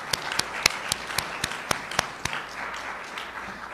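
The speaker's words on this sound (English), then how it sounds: "Let's give them all a big round of applause." Scattered audience applause at a New Jersey governor's Supreme Court nomination announcement: a handful of distinct, evenly spaced hand claps ring out over a faint room murmur before tapering off.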